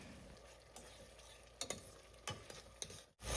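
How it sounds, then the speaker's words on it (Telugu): Ginger garlic paste stirred into frying onions for a country chicken curry, a quiet background sizzle broken by a few sharp spoon scrapes and clacks against the pan, ending in a louder knock. "ఆనియన్స్ ఇలా ఫ్రై అయ్యాక ఇప్పుడు దీంట్లో 1 spoon full ginger garlic paste వేసుకొని కలుపుకుందాం"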